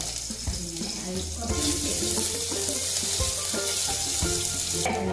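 Ginger-garlic paste fries in a pan for a pasta dish while being stirred, producing a loud, rushing, water-like sizzle that swells after a moment, with some voices in the background.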